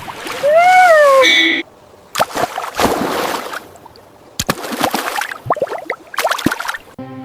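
Water splashes in bursts from small fountains in the shallow pool of a water park, with a rising whistle-like tone near the start and a choppy, uneven rhythm throughout.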